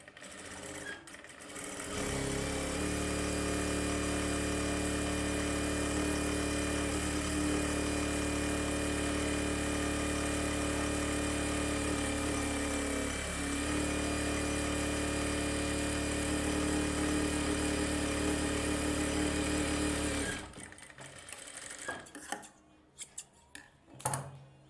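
A sewing machine stitches a folded blouse hem in one long, steady mechanical whir that runs evenly for about twenty seconds, then stops, leaving a few soft handling clicks.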